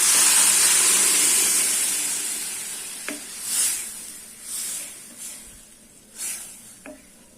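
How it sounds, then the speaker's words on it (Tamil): A loud steady sizzle fades out gradually after toor dal is poured into a hot pan, followed by a few soft stirring scrapes and light bubbling. "இப்போ நம்ம இந்த பருப்பை இதில் ஊற்றிக்கலாம்"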